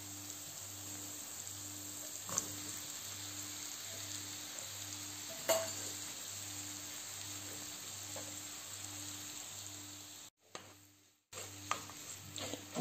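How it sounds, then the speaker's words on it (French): Minced meat sizzles in a pan for a pasta gratin, a soft steady frying hiss with an occasional utensil tap and a brief dropout near the end, faint and continuous with no talk. "Ensuite, je vais mettre la viande hachée."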